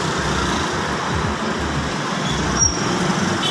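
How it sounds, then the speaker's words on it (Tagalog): A motorcycle engine idles nearby after a collision with a tricycle, giving a steady low running rumble with faint passing traffic, and no one speaks. "Nakaandar pa yung motor."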